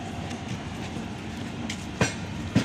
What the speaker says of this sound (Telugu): ఇంతవరకు వచ్చిన ట్రైన్ అయితే వెళ్ళిపోతుంది